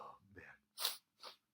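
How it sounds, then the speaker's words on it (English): A single sharp sneeze bursts out after some faint breathy sounds, followed by a smaller second sneezy exhale, close and fairly quiet. "I'm about to sneeze."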